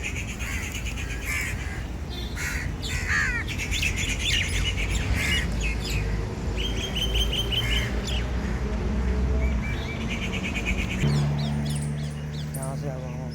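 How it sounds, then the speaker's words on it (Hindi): Morning birds in a park pecking at scattered grain, with squawks, caws and chirps overlapping throughout alongside a steady outdoor background and people talking. "सुबह सुबह पंछी देखिए दाना चुग रहे हैं"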